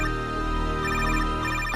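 A phone rings with an incoming call, a steady repeating electronic ringtone pattern that is loud and close, with no voices over it.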